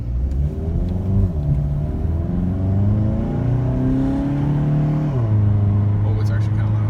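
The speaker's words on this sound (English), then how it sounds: "I'm gonna, you know, let it rev up a bit, see." A 2017 Volkswagen GTI with a new downpipe revs up while idling first in line at a green light, its engine note climbing and falling in smooth harmonic sweeps, loud and close throughout without anyone talking.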